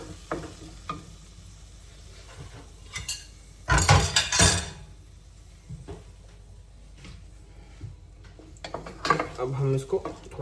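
Food is stirred in a cooking pot with a utensil, giving scattered clinks and scrapes of metal on cookware with louder bursts of clatter, heard up close under a quiet sizzle while someone talks.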